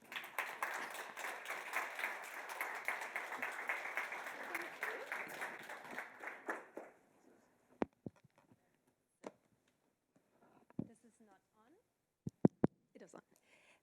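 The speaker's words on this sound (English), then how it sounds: "Please give a warm round of applause to Christina Voyet." Conference audience applauding at an environmental law roundtable, a steady patter of many hands for several seconds that cuts off abruptly, followed by near silence broken by a few isolated clicks and soft knocks.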